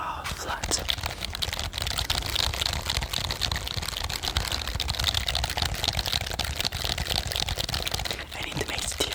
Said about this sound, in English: This time I took the flat keyboards.